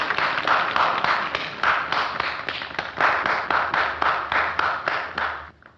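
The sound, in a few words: clapping in a Citizen Kane film scene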